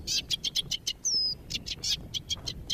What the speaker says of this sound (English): you can hear the wind in the reeds and the sound of the warblers